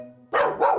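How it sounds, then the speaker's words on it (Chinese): A dog barks twice in quick succession, close and loud, after a brief low hum, as a sound effect for a greedy dog barking at its reflection in a river in a children's story. "于是他对着河面汪汪大叫"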